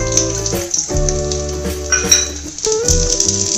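Onion-infused oil poured into a pot of masoor lentil dal with turmeric, sizzling steadily at close range with crackling bursts, alongside faint clinks of the pot and spoon.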